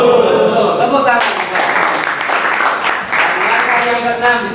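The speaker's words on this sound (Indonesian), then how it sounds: "Tepuk tangan." Junior high school students clapping in a classroom, a burst of brisk applause that follows talk and fades as voices return.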